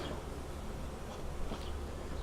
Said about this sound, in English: I've got bees all over the floor